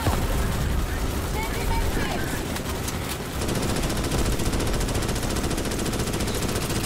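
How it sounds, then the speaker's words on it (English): In the video game Starship Troopers: Extermination, weapons fire into a swarm of insects: dense, unbroken rapid gunfire roars loudly throughout, with a voice faintly mixed in. "Firing blindly into the mass of fucking insects."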